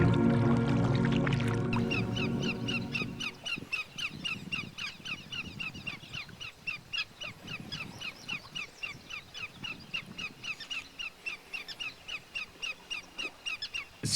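Birds call over calm Lake Winnipeg during a canoe expedition, with a burst of low rumbling noise at the start, then a long run of rhythmic, repeated high calls, clear and moderately close over a quiet background.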